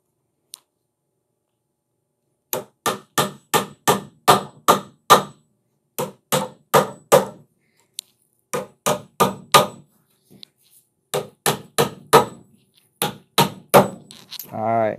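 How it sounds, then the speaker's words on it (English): Repeated sharp hammer blows driving carpet tack strip nails into a wooden tufting frame, quick bursts of several strikes separated by short pauses, close and loud. "all you're doing is pretty much just hammer it down"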